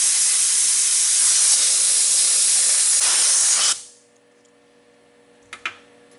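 TIG welding on a stainless steel star gives a loud, steady, even hiss for almost four seconds, then cuts off sharply into near-silence, broken by two brief faint knocks near the end.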